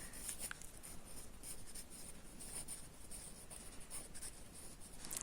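Hand-lettering of axis labels on a histogram graph in a Class 10 maths lesson: close, quiet, continuous scratchy strokes with short pauses between them, carrying on steadily for several seconds with no voices.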